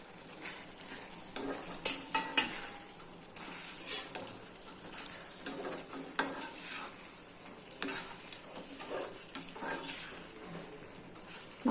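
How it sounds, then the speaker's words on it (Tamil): Mutton chukka with garlic and ginger stirred in a pan, a soft steady sizzle of frying broken by scraping spoon strokes and occasional metallic knocks against the pan, close and moderately loud with no talking. "இதை போட்டு ஒரு 5 நிமிஷம் கிளறி விட்டு நம்ம இறக்கிக்கலாம்"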